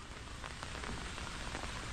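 Rain falls steadily on nearby surfaces, a soft continuous patter with scattered sharper drops, fairly faint and unbroken by any voice.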